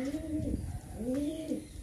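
Two pigeons of an Andhra breed give two rolling, low coos about a second apart, close and clear, with a soft background hum.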